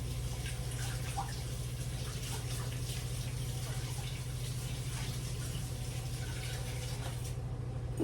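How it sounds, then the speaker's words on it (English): Hands being washed under a running kitchen tap while baking a chocolate cherry genoise cake, a steady continuous water rush with faint splashes, close and unbroken for the whole stretch, no talking. "let me wash those off real quick"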